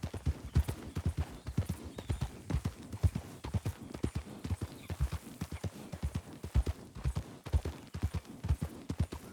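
Three horses clip-clopping, hooves striking in a steady uneven rhythm close by, with an occasional faint whinny and no speech.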